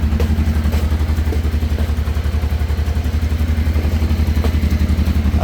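A 1989 Honda Transalp 600V V-twin motorcycle engine idling steadily after a cold start outdoors, a loud, close, even low throb with light mechanical clatter and no talking.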